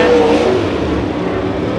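Late model race cars roar around Santa Maria Raceway during a heat race at the Nationals, a loud, sustained engine drone close by that fades slightly over the span, with no speech.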